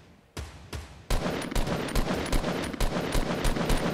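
Video-game gunfire from Fortnite rattles in fast, loud bursts, a couple of separate shots opening into sustained rapid automatic fire close by, with no voices over it.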